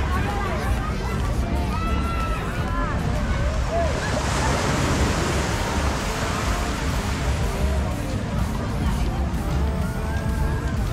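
Surf rolls onto a crowded beach in Maceió, Brazil, as a steady, loud wash of waves and wind, with a murmur of many distant voices mixed underneath.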